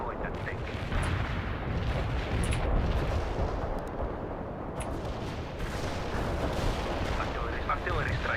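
Artillery barrage in the war game World in Conflict: dense, rumbling explosions and booms rolling continuously, heavy low-end thuds layered with crackling blasts and occasional sharp reports.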